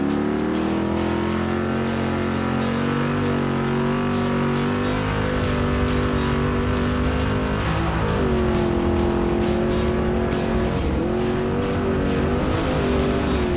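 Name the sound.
spec race truck driving in dusty off-road qualifier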